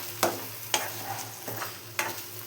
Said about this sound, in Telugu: ఎగ్ ఫ్రై నా స్టైల్లో